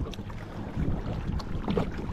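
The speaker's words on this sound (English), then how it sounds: "we're now here just sitting on the lake, paddling along" Kayak paddling across a lake, with soft water swishes and low rumbling movement that swell periodically, under steady wind buffeting the microphone.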